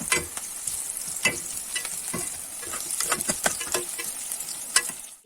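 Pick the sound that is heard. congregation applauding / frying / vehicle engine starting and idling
frying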